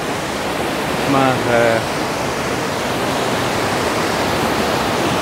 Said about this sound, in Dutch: Ik hoop niet dat het water al te luidruchtig is